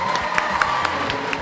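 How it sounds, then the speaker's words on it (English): A crowd claps and cheers for Councilman Al Austin at the Celebrate the 8th event in the Expo building, a steady wash of applause with a few sharper whoops and claps poking through. "Let's give him a round of applause."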